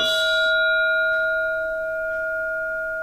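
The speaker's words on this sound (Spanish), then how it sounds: "un gong sonando" A meditation gong rings out with a bright strike, its steady tones sustaining and slowly fading over a quiet room, with no voices.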